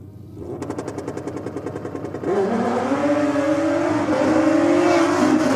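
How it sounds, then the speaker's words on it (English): A drag racing motorcycle on the strip rattles loudly with a rapid staccato engine pulse, then launches into a sustained, near, full-throttle roar whose pitch climbs through the gears. No talking is heard. "we got Michael finally able to get out on the track with the bike"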